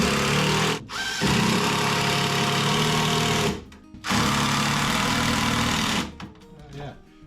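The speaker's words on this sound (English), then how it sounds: "Pocket screws are nice, and especially I can put them in from underneath so no one will ever see them." A power driver sends pocket screws into a bench drawer face frame: two long, loud whirring runs with a short pause between, then a brief quieter stretch of rattling at the end.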